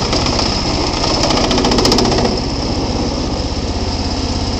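A Bolens garden tractor engine runs steadily at high throttle on a steep, rocky slope, giving a loud, rapid, buzzing chatter with no talk.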